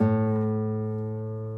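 Plucked nylon string on a classical guitar ringing as it is tuned, one sustained note with steady harmonics that fades slowly, close and alone.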